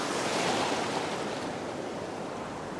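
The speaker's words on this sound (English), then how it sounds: "The waves are not huge, and there's some quite good lulls in between." Ocean surf rolling onto a beach in a steady broadband wash, moderate waves with no distinct crashes, continuous and fairly close with some wind.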